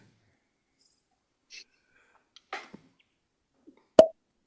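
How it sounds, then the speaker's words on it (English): A cork pops out of a bottle of Johnny Drum bourbon with a single sharp, close pop, preceded by a few soft handling and breathy sounds in an otherwise quiet room. "It's actually a very pleasant cork pop"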